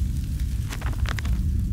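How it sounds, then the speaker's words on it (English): An engine fire ignites in Amnesia: A Machine for Pigs, a few crackling, whooshing bursts of flame rising over a steady low industrial rumble, with no voices. "The engine fire. The flames are stroked."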